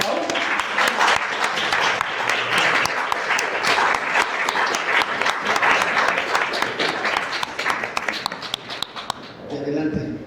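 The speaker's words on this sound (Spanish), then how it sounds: "ahora sí que un gran aplauso a Deri y a Pau." An audience at a comic book presentation breaks into loud, sustained applause, with many hands clapping densely for about nine seconds before it drops away and a voice begins speaking.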